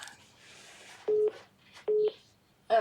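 A phone sounds in a quiet room: three short electronic tone bursts spaced about a second apart, clear and fairly near, with faint background murmur between them.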